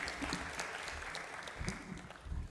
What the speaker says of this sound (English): Let us clap for the chairman again